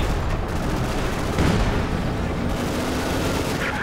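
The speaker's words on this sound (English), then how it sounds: "Heavy Panzer firing on us!" Heavy Panzer tank cannon fire in Company of Heroes 2, a 1v1 match, with dense booming blasts and battle noise rolling continuously, one stronger report standing out midway.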